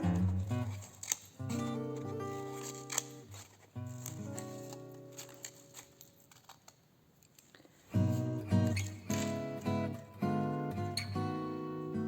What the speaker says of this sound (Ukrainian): Я надрізаю ось цей такий фігурний край